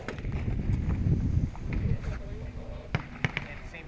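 Pistol shots at a 50-yard NRA national pistol match at Camp Perry ring out as a few sharp, spaced cracks near the end, heard at a distance beneath people talking over steady range noise.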